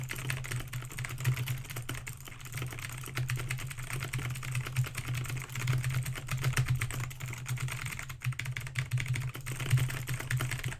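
Rapid, continuous typing on a computer keyboard, close and steady with dense clicking keystrokes throughout, no voices.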